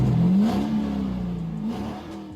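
Real cars rev through a playing online clip, a mid-pitched engine note that swells, dips and rises again over a couple of seconds, heard secondhand through speakers with no talk over it.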